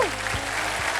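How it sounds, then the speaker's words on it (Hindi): Studio audience applause on a Wheel of Fortune game show, a brief, steady wash of clapping at moderate level, mixed with faint tonal sounds underneath. "जोरदार तालियां मेरे लिए।"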